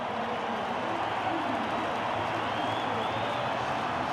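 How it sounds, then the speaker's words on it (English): Stadium crowd at a rugby match between the All Blacks and South Africa in Johannesburg, a continuous loud roar from a vast crowd with a broadcast commentator's voice faintly over it. "that has got the crowd back roaring"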